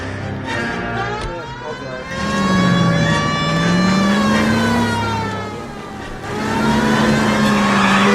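A car driving in the video game L.A. Noire, a loud steady engine drone whose pitch rises and falls as it accelerates and eases off, close and continuous with no talking over it.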